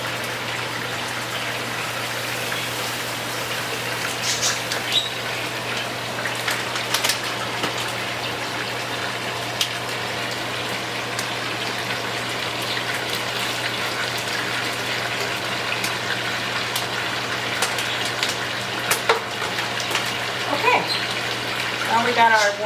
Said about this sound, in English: We're going to add our 2 bottles of water, which is our 4 cups.